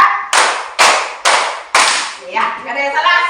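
Students in a classroom clap in unison to a counted rhythm, four crisp, loud claps in steady succession, then a voice begins talking.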